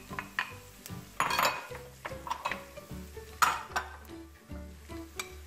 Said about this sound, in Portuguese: Agora vamos deixar o alho refogar.